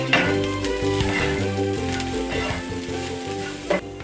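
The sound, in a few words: onions and peppers frying with Jamaican jerk seasoning, stirred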